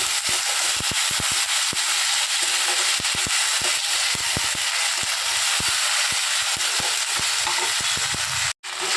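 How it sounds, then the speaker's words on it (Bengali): Ginger and garlic paste sautéed in a pan with mutton fat for a Bengali pea ghugni, crackling in a loud, dense sizzle while a spoon scrapes and taps the pan in quick irregular strokes, with no voices. "আদা রসুনটা ভালো করে কষিয়ে নিলাম"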